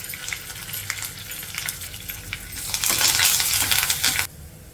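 Garlic, dried red chilies and curry leaves fry in oil for a pickle, crackling steadily before a louder, denser burst of spitting as the fresh leaves hit the pan, then cutting off abruptly near the end.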